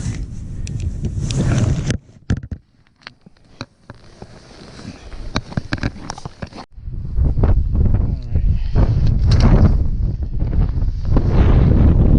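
Strong wind buffets the microphone on a frozen lake during ice fishing, a heavy roaring rumble that drops out briefly midway and then returns with a person talking over it.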